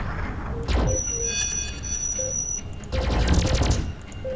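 Spaceship weapons fire in the space combat game Starpoint Gemini, heard as two dense bursts of rapid shots under a steady background hum and sustained electronic tones.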